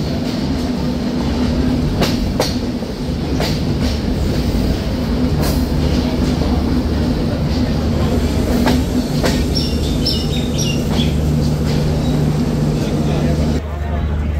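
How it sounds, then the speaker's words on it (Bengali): The Madhumati Express train enters Rajbari station, wheels rumbling and clicking over the rail joints with a steady loud drone and occasional sharp squeals. A voice talks over the noise. "ট্রেনটি প্রবেশ করছে আরও একটি যাত্রাবিরতি স্টেশন রাজবাড়িতে।"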